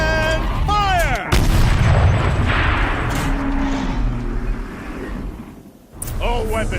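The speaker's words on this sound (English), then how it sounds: "Rotate turret! And fire!" A turret fires heavy blasts in the video game Horizon Zero Dawn, with big booming shots and rumbling mechanical movement mixed with a voice and tonal game sounds.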